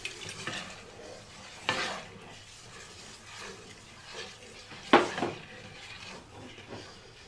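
Milk gets stirred into a flour-and-butter roux for a cheese sauce, giving soft wet swishes with a couple of sharper spoon-against-pan scrapes and a faint background sizzle.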